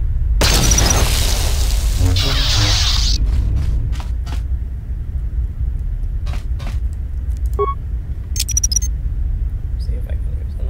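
A frag mine detonates in Knights of the Old Republic II: The Sith Lords, a loud, dense blast lasting about three seconds, followed by scattered sharp clicks, hits and short game effects over a steady low rumble.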